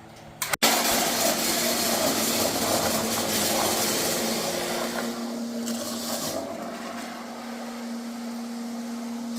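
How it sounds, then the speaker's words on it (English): An electric blender whirs through a batch of tomato salsa, starting with a brief clunk and then running as a steady, loud motor whine that gradually settles lower as the mixture smooths out. "we will once again blend"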